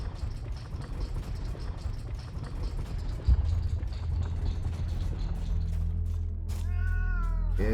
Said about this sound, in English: Know why your gray kitten wanders around, Zoran.